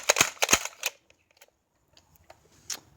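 A Nerf Strongarm blaster slam fires darts in quick succession, three sharp snapping shots close together followed by faint clicks and handling noises in near silence.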